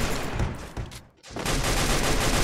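Rapid bursts of video-game gunfire from a favourite weapon in Free Fire's zombie hunt mode, loud and dense for about a second, briefly cutting out, then resuming as sustained automatic fire.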